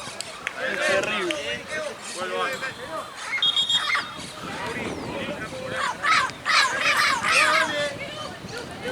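Pigeons flap off in bursts of wingbeats and scattered calls at a snowy outdoor football match, heard beneath loud nearby conversation and background crowd noise.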